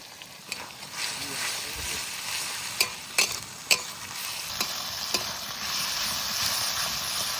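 Ginger-garlic paste and chopped green chilli frying with onions in a pan, a steady hissing sizzle broken by a few sharp stirring scrapes, close, with the sizzle swelling louder toward the end.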